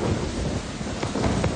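Rolling thunder during a heavy rainstorm, a loud continuous rumble with steady rain hiss throughout and a few stronger cracks near the end.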